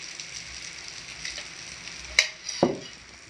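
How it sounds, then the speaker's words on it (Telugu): Egg masala omelette frying gently in a pan over a low flame, a soft steady sizzle with a couple of brief clinks near the end, no voices. "ఈ ఆమ్లెట్ అన్నది సిమ్లోనే నీట్గా మనము వేపుకోవాలండి లేకపోతే మాడిపోతుంది"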